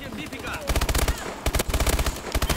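KF5 rifle fire from Call of Duty Advanced Warfare multiplayer on the Bio Lab map, loud rapid automatic bursts with a brief pause and then more sustained strings of shots.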